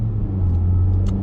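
A Honda Civic Type R engine idles with a steady low rumble, close and continuous, with faint brief clicks above it.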